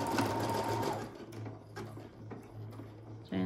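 A Brother Innov-is 200 sewing machine stitching a buttonhole, its motor running with a steady rapid needle chatter that dips briefly and picks up again, close and continuous with no talking.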